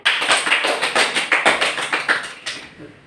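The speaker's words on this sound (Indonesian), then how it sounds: "Tepuk tangan buat teman kalian." Classroom applause for classmates, a quick run of hand claps from a small group that starts loud and thins out over about three seconds.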